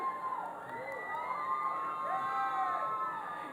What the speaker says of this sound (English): Your supporters here tonight are loud.